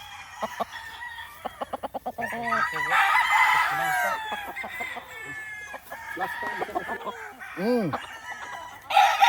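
Gamefowl rooster, a Boston Roundhead crossed with Machine Kelso, crowing on a game farm, with clucks and clattering sounds in between, fairly close, and people talking faintly in the background.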